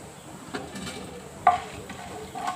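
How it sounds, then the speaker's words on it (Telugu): Cumin and mustard seeds spit and crackle in hot oil, a soft sizzle broken by a few sharp pops and stirring clinks, close and fairly quiet. "నూనె వేడైనాక 1 టీ స్పూన్ జీలకర్ర, 1 టీ స్పూన్ ఆవాలు, 1 స్పూన్ పచ్చెనగపప్పు"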